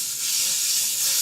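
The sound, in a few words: bacon frying in olive oil in a deep pot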